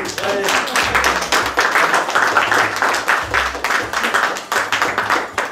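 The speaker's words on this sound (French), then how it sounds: "On les applaudit une dernière fois." Dense applause and clapping from a restaurant audience at a Lyon award ceremony, steady and close for several seconds with voices mixed in.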